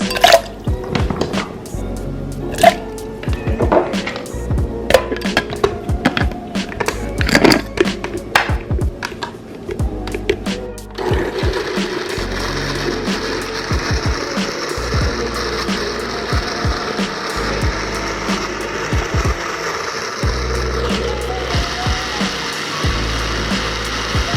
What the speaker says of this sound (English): The blender has been working for our best interest guys.